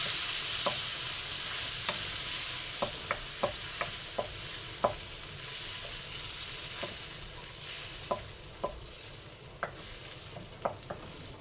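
Fresh tomato being stirred into Coke butter shrimp sizzling in a pan: a steady, loud sizzle broken by a dozen or so sharp scrapes and clicks of the stirring utensil at an uneven pace, with no voices.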